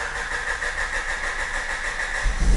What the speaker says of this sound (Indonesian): Mobil alhamdulillah nyala.